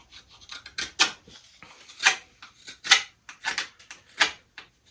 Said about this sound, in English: we sharpen at our specific angle. And we keep working at it